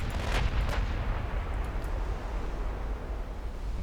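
Warship guns firing armor-piercing shells at a battlecruiser in a 1950s naval battle game: heavy booming salvos with two sharp blasts near the start, then a long rumbling roar as the reports fade into distant wash.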